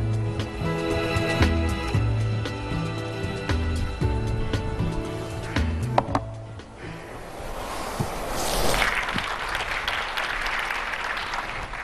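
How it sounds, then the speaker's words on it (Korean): A forum audience in Seoul applauds to welcome a speaker, a broad wash of clapping that swells in the second half, with music playing underneath at the start. "Please welcome him with a big hand."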